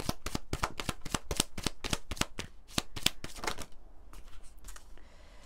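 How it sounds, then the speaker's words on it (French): An oracle card deck being shuffled, a rapid series of about a dozen crisp riffling snaps close by, then quieter soft card handling and sliding as cards are drawn. "On va prendre 2 ou 3 cartes pour le masculin."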